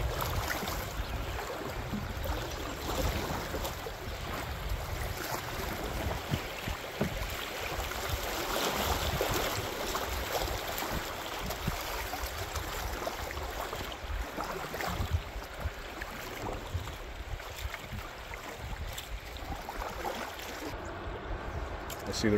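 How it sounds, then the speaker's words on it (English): Canoe paddling on the Saugeen River, a continuous soft wash of moving water and faint paddle splashes, steady and low throughout with no talk. "just paddle forwards"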